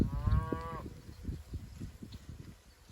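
A cow moos once in a grass paddock, a loud, close, low bellow at the very start that fades into quiet outdoor ambience with soft rustling.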